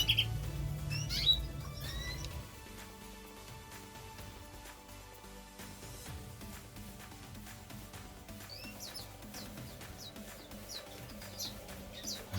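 Hungry chicks in an aviary nest give thin, high chirps while their blue mother feeds them, soft and scattered over a low background hum, with a brief burst of squeaky calls.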